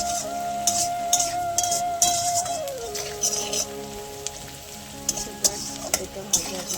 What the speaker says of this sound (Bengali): পেঁয়াজটা ভাজা হয়ে এসেছে। অনেকটাই আর একটু ভাজা ভাজা করবো।